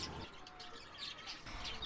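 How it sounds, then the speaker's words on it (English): Pigeons in a school pigeon shed by a field, soft chirps and coos scattered over a close, noisy background with no talking. "We are at the pigeon shed down by the bottom field and I'm going to open the pigeon cage."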